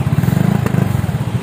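A Yamaha XMAX 250 scooter engine with a standard exhaust running close by, with a fast, even chugging idle that stays loud and steady.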